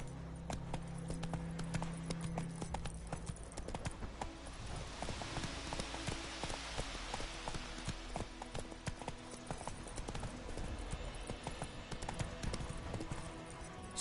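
Hooves clip-clop in a steady galloping rhythm from a ridden horse in a PS4 video game, loud and continuous over a low background game score, with no talk.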